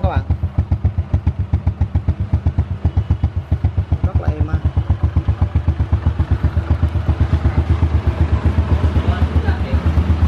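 A Honda Dream or Future motorcycle engine idles close by, a steady throbbing put-put with a loud, even rhythm and some mechanical clatter throughout.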